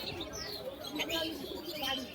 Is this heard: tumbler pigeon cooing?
yes